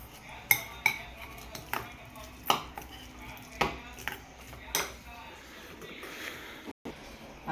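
Repeated soft thuds and clinks of a masher pressing a potato filling with chili powder in a bowl, irregular and close, with a voice talking faintly in the background.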